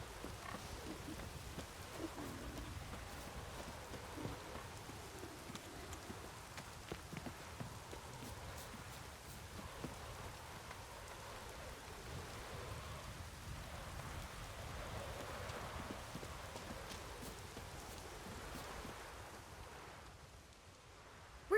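Steady rainfall in The Witcher 3, a soft even patter of drops on surfaces running continuously at low level without a break.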